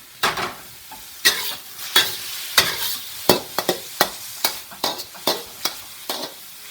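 Fried rice cooking in a pan over a high flame, with a series of sharp scraping stirs and tossing strokes over a light background sizzle, close and fairly loud, no voices.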